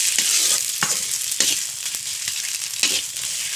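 Green chili paste sizzling in hot oil in a pan as the spice base for hilsa pulao, a loud continuous fry broken by a handful of sharp spoon scrapes and stirring strokes.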